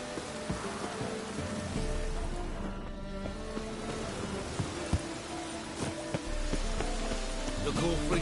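Steady rain falls in The Witcher 3, a constant wash of patter over water and surfaces, with occasional louder drops and knocks scattered through it.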